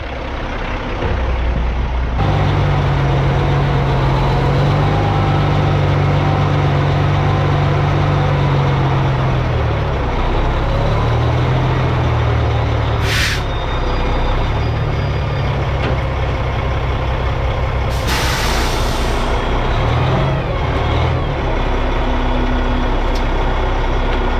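Heavy excavator work for a major hillside cut, loading dirt into a dump truck: a loud, continuous diesel engine drone with low rumbling and intermittent bursts of clatter and hissing, close by with no talk.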